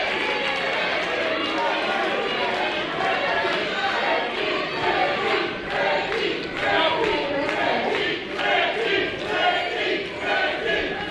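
A Barrie Wrestling crowd at a live wrestling show chants loudly and continuously, a dense roar of many voices with rhythmic swells throughout, drowning out a performer on the mic.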